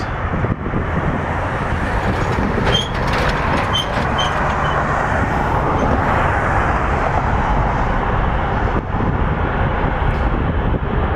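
An airliner takes off from runway 23 at Toronto Pearson, its engines producing a loud, steady broadband roar that holds through the whole stretch, with no voices over it.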